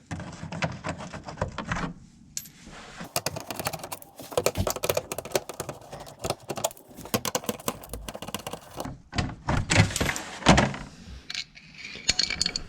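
A Phillips screwdriver backs out four screws on a panel by the passenger-side tire of a 2020 Toyota Highlander Hybrid, producing bursts of close, sharp clicking and ratcheting with short pauses in between.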